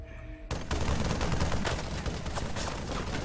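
Dense, continuous rifle fire from soldiers in the military video game Arma 3 bursts in abruptly and roars on as an overlapping volley.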